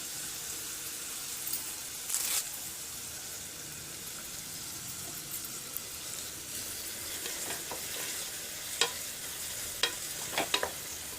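Curry leaves drop into a pan of frying onions, giving a continuous soft sizzle with occasional stirring scrapes and a few sharper crackles toward the end, with no voices.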